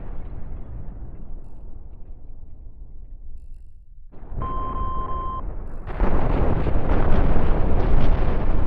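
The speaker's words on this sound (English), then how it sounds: "I think I shall deliberately use my missiles, as opposed to accidentally using them." Missiles launch and burst in the space-ship building game Cosmoteer: a low rumble, a short steady electronic beep, then a loud, dense roar of blasts that keeps building to the end.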